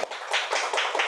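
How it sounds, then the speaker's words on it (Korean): Applause at a church Bible study class, a short burst of a few people clapping in quick, uneven bursts for about a second, close and fairly soft. "박수 한 번"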